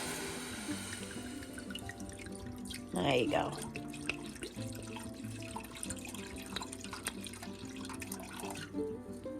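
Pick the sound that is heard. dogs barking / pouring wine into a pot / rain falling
pouring wine into a pot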